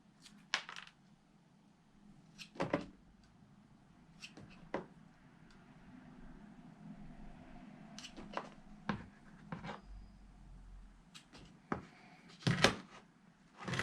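Jade plant cuttings being trimmed back for bonsai, with scattered sharp snips and clicks close by, irregularly spaced among soft handling rustles in a quiet room.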